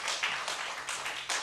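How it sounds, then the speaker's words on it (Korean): Church congregation clapping in appreciation of women deaconesses and senior deaconesses at a Thursday night Korean church service, a brief, dense burst of many hands filling the room, steady and loud throughout. "한국교회 여자 집사님들 권사님들한테 박수 한번 칩시다"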